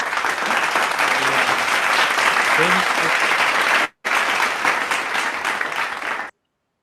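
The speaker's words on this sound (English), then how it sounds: "can we give a big warm round of applause to our Team Elite Pegasus, Miss Romelyn Latonio" A pre-meeting audience breaks into a big round of applause, dense and sustained, cutting out abruptly for a split second before continuing, then stopping sharply at the end.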